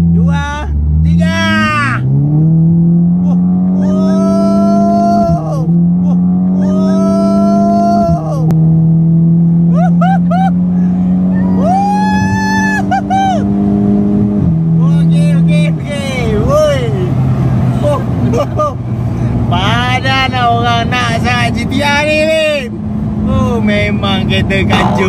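A Volkswagen Golf GTI MK6 Stage 3 accelerates hard, its loud engine note climbing and dropping through several gear shifts at close range. People talk and exclaim excitedly over the engine throughout.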